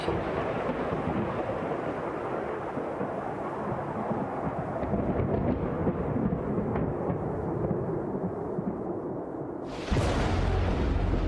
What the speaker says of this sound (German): There is a storm coming!